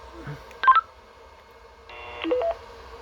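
A keyed-up handheld radio sends DTMF tones to a repeater: a short burst of dialing beeps, a pause, then a longer tone sequence, clear and close against a quiet background.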